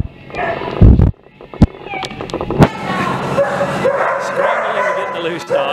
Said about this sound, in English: Got a loose doggy.